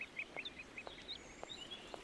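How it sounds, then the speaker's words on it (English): Birds call in the 2002 video game Syberia, a rapid series of short, bright squawks repeating over a quiet background, punctuated by a few soft low thuds. "It's a bird."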